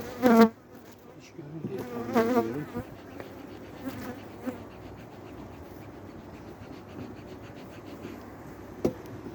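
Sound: honeybees buzzing at an open hive during brood check

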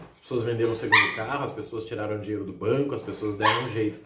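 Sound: dog barking

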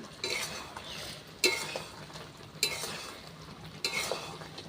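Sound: stirring mango jaggery pickle with spices in a pan

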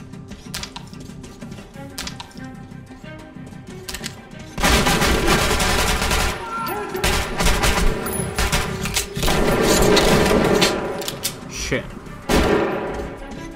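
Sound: gunfire in video game Metro Last Light

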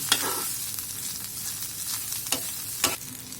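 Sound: stirring and frying loitta dried fish in oil

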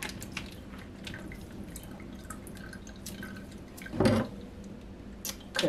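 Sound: pouring liquid out of hen

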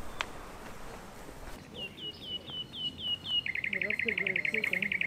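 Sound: birds singing outdoors

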